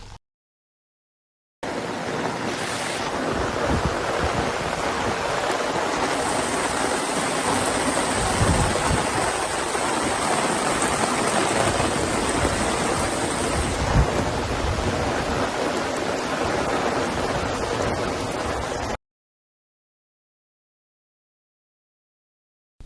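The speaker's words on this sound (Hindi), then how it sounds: "जगतियाल में जारी बारिश का भी मंजर सामने आया है।" Heavy monsoon rain pours steadily in Jagtial, Telangana, a loud, continuous broadband hiss with a faint low rumble that may be distant thunder, starting abruptly and cutting off before the end.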